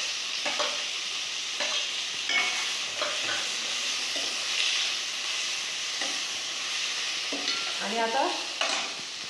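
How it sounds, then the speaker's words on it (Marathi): Onion frying in hot oil with mustard seeds and cumin for a whole masoor curry makes a steady close sizzle, broken by scraping stirs, with a few quiet spoken words. "आता मी त्यामध्ये कांदा टाकून घेतलाय"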